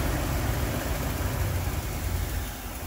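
A 1988 Nissan 300ZX turbo engine, a barn find, runs steadily at idle, a continuous low rumble with broadband noise and no voices.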